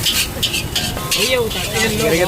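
Roadside fried rice gets stirred hard in a hot pan, with loud scraping and tossing over a constant sizzle and faint background voices and street noise.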